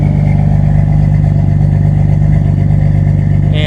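A Dodge Dakota's 3.9 engine idles steadily through a Thrush exhaust, a loud, continuous low rumble with an even pulsing throb and no change in pace throughout.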